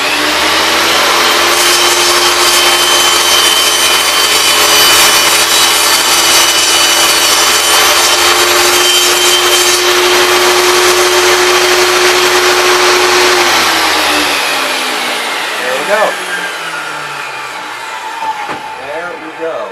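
A Craftsman table saw whines loudly, cutting a wood board to 18 inches for about fourteen seconds before spinning down, with a person talking over the end.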